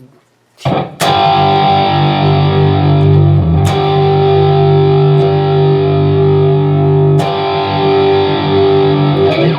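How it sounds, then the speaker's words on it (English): An electric guitar runs through a multi-effects unit's stock solo distortion preset into a PA system, giving loud, thick, sustained distorted chords that are struck three times and ring out between hits. "that's the stock solo distortion setting"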